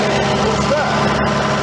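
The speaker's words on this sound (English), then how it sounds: "It's a Leyland engine, and it's a British generator unit as well." A British-built generator unit with a Leyland engine starts and runs with a loud, steady, rough engine drone throughout, while voices talk close by.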